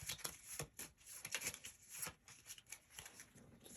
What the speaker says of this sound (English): Shuffle up the deck and pull our corridor card.